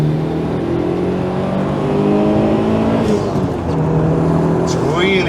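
A Mitsubishi Evo V's turbocharged engine pulls hard through the gears from inside the cabin, its droning note rising in pitch with each shift while turbo whistles and whooshes sound near the end; someone talks over it.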